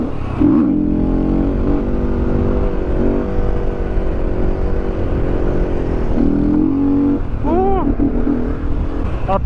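KTM 450 EXC motorcycle engine pulling hard in fourth gear, a loud steady drone of rising and falling harmonics that holds close throughout, with a brief pitch sweep near the end.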